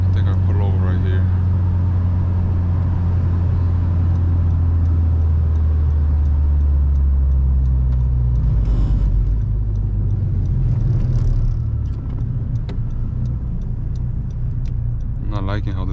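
A Honda Civic Si driving on a snowy road, heard from inside the cabin as a loud, steady low engine and road rumble with tire noise, and someone talking briefly over it.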